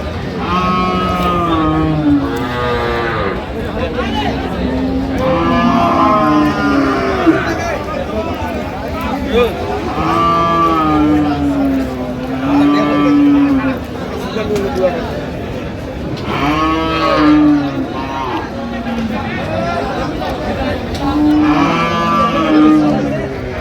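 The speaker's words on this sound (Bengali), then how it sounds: "গাভী বাছুর।" Cows with their calves moo repeatedly at a busy rural cattle market in Ambari, with long drawn-out calls rising over constant nearby chatter and bargaining voices.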